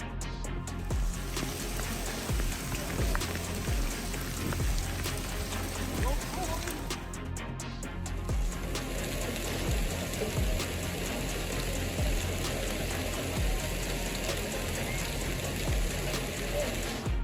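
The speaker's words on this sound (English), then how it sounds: "The heavy hail formed a hail river flowing down the road in the Davis Mountains" Heavy hail pours down in the Davis Mountains, a dense, continuous patter of hard ticks and clatter over a loud broadband roar, steady throughout.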